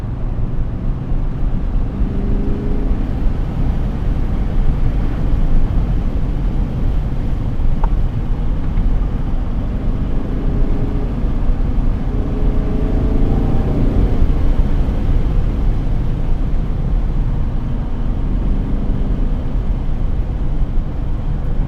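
A BMW E39 540i driven along a road in third gear gives a steady, low engine drone with road rumble and some wind noise, continuous and fairly loud throughout.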